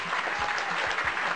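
Brief burst of studio audience applause, dense steady clapping at close range with no voices over it.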